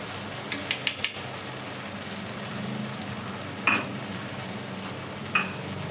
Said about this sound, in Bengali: তো পুরো মশলাটাকে আমি এবার সুন্দর করে কষিয়ে নেব